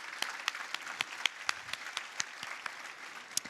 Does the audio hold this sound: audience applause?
yes